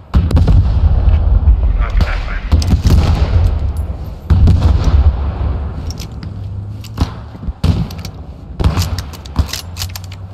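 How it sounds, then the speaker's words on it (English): Loud gunfire in the World War II shooter Post Scriptum: heavy, booming shots in irregular bursts, some in quick clusters with echoing tails and gaps between, with faint voices now and then. "I just start shooting"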